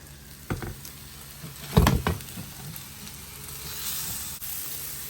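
A sausage sizzles in an Anko mini electric frypan, a soft steady crackle with a few louder pops and a stir or tap near the two-second mark.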